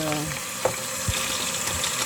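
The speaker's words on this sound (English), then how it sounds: "I'm going to use hot water to fill this bucket" Hot water runs into a bucket as a steady, fairly loud broadband rush, with a few small clunks and knocks breaking through the constant pour.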